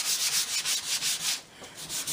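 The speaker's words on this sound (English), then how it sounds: "it really is just quite a light sand. This is again my 60 grit pad," A 60-grit pad lightly sanding painted furniture edges, a steady rhythmic scratchy rubbing in quick back-and-forth strokes, close and alone.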